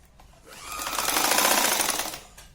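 A sewing machine runs a single close burst of rapid stitching along saree fabric strips. It rises from quiet, holds a steady whirring hum of needle strokes for about a second and a half, then fades away.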